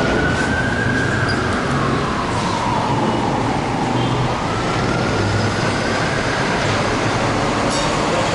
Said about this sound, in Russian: Ну вот смотрите, как вагон едет.